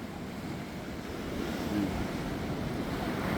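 Large waves surge against the seawall of the Dipolog City boulevard, a continuous rough roar of water mixed with wind buffeting, with no clear individual crashes.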